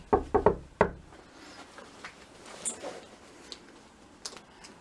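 Three sharp knocks land on a front door in a quick burst, followed by faint rustling and small taps in a quiet space.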